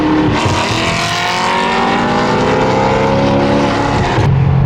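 A Corvette Z06 engine rumbles and burbles up close, a loud, throaty exhaust note with shifting pitch that rises and falls, ending with a sharp change near the end.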